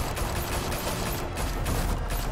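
A loud, continuous volley of gunfire in Batman: The Telltale Series, several weapons firing at once in a dense, unbroken barrage, with no talk.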